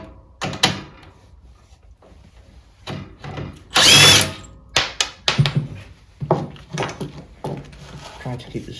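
A power tool works bolts free from a motorcycle footrest in short bursts, with a louder whirring burst in the middle, among clanks and knocks of parts being handled and occasional talk.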